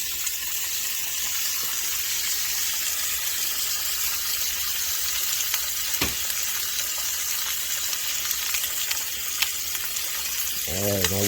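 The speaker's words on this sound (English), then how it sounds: "Now we're going to flip our bacon. And while that other side cooking, we're going to add the eggs in here." Bacon and eggs fry together in a pan, giving a steady, close crackling sizzle that runs throughout, with a brief low thump near the end.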